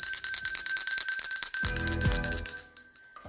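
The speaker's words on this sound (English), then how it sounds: "I definitely should ring a bell for you" A bell rung several times, bright ringing tones with sustained metallic overtones that overlap and slowly decay toward the end, close and fairly loud, with a low thump partway through.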